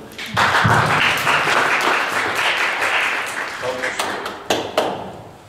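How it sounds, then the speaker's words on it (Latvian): A studio audience bursts into applause to welcome a habilitated philosophy doctor onto a talk show, loud at first and then tapering, with a few scattered claps near the end. "Sveicam ar aplausiem"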